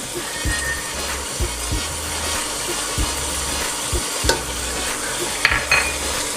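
Garlic ginger paste fries in a pan for biryani, a steady sizzle running throughout with repeated scraping stirs and occasional spoon knocks, close and fairly loud.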